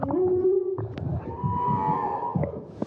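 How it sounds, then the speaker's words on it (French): A whale sings directly beneath a boat, its long, low moaning calls sliding and wavering over several seconds with a few higher tonal squeaks, rich and close, lasting throughout. "il y avait une baleine qui chantait, mais juste sous le bateau"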